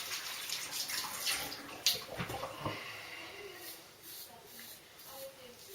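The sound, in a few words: water rinsing a Merkur Futur safety razor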